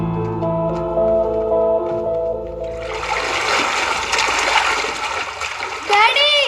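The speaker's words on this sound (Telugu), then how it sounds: "వాటర్లో ఆడుకోవడం చాలా బాగుంది" Children splash and play in water, a steady broadband wash of splashing and churning that swells after a quieter, tonal opening, with brief higher cries near the end.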